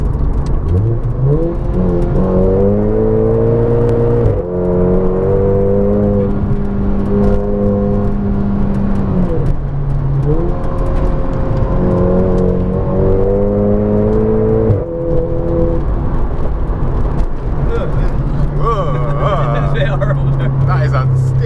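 A 350 BHP VW MK5 Golf GTI engine revs hard several times, its pitch climbing and falling in loud blips heard from inside the car.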